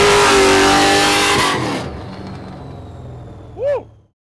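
Loud, close roar of an 800 hp LS3-swapped Nissan 350Z Formula Drift car revving hard, then fading as it pulls away, followed by a brief rising whoosh before silence.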